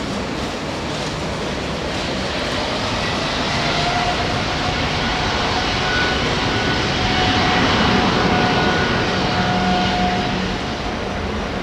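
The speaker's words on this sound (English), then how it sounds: "Emirates 380 taxiing, yes!" An Emirates Airbus A380 airliner taxiing at London Heathrow Airport gives a steady, loud broadband engine roar that swells gently and then eases, with faint whining tones over it.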